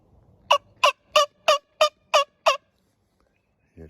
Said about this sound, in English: This is actually a wing bone call that I made out of a gobbler's wing bone